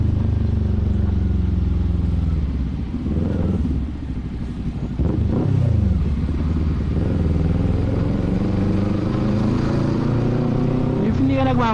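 Kawasaki Z400 motorcycle on the road, engine droning with rising and falling revs and a few shifts, heard up close from the rider's position with wind rush and some traffic noise.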